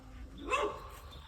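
An Olde Boston Bulldogge gives a single sharp bark outdoors near woods, close and fairly clear, with quiet surroundings before and after.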